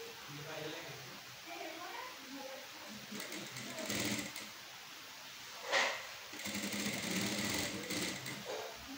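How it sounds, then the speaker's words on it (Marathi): A sewing machine stitches a lining into a sleeve decorated with aari embroidery, sounding in short rattling bursts of rapid needle clatter between pauses, fairly quiet, while someone talks over it. "तर आपण आता टीप मारून घेऊयात।"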